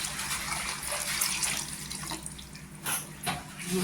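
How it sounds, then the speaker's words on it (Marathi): A glass of water is poured into thick cooking pav bhaji vegetables, a continuous rushing, splashing flow lasting throughout with a few louder gushes toward the end, close and clear with no talking. "इथे पाणी टाकते 1 ग्लास."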